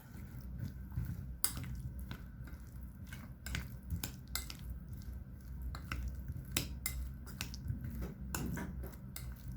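Mushrooms coated in vegetable oil and masala are stirred in a pan, giving soft scattered spoon clicks, light wet squishes and occasional taps against the vessel, all quiet and close with no talking.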